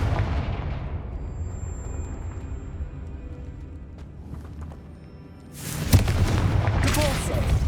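In Hogwarts Legacy, a Confringo spell bursts with a sharp, booming explosion about two-thirds of the way in, following a stretch of low rumbling game ambience and a brief spoken spell call.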